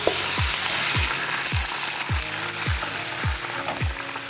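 Fish crackling in hot oil gives a dense, steady sizzle, with a regular series of low knocks about every half second running underneath.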